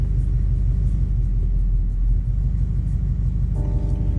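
Steady low rumble from a straight-piped Ford Mustang GT cruising with its exhaust in quiet mode, continuous and fairly loud, with a faint tonal hum entering near the end.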